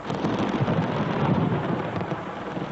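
Heavy rain pours steadily during a thunderstorm over Jerusalem, with thunder rolling low under the downpour. The sound is dense and constant throughout, with no talking.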